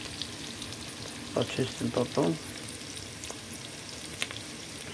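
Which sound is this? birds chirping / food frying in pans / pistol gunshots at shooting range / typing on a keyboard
food frying in pans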